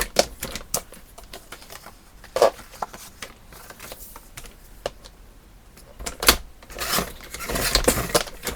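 Card stock is trimmed for a gift box that holds layered cards, a series of sharp, irregular clicks and snaps from the cutting tool, with a denser burst of cutting noise near the end.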